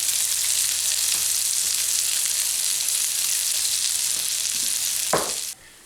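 Sausage and onion mixture sizzles in a hot pan for homemade pierogies, a steady, close, bright frying hiss with a faint stir near the end before it cuts off abruptly.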